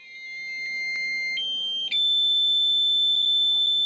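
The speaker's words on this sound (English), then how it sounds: "as it simply converts one track of the MIDI file into beeps." A PC speaker plays MIDI music under a Microsoft MIDI driver, reducing one track to a string of thin, piercing square-wave beeps. Several sustained tones jump between pitches over a faint background hum.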